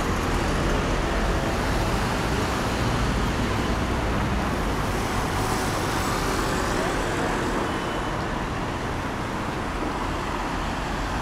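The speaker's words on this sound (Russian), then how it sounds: "Очень много машин по второй линии." Busy street traffic in Alanya, Turkey, in January: dense, continuous roar of many cars and trucks passing close by, with the noise rising and falling slightly as vehicles go past.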